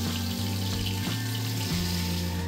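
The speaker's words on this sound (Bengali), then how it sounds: "একইভাবে বাকি দুটো বেগুনও ভেজে তুলে নিলাম।" Eggplant slices fry in hot oil in a home kitchen, giving a steady, close sizzle that runs unbroken throughout, with no voices.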